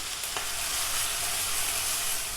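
Mushrooms fry in a pan as chicken crepe filling cooks, a steady bright sizzle that stays constant and close, with a brief stir or scrape near the start and no talking.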